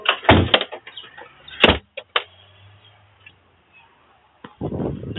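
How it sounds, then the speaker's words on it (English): A car door being shut on a hot day, a couple of sharp loud thuds with clunks and a brief motor whir, followed by quiet and then rustling movement. "now it's time to close the door"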